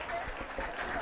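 Crowd applause at a high school football game as an injured Wapsie Valley player leaves the field, steady clapping throughout with a voice talking over it.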